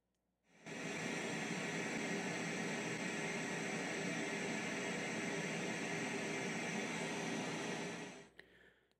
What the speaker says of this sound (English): I'm going to play pink noise.